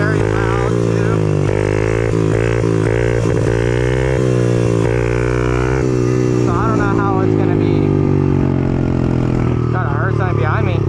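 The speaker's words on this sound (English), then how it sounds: "This bike is very loud too." A loud motorcycle roars steadily while being ridden, its droning engine note shifting in pitch as it revs up and down throughout, close and continuous.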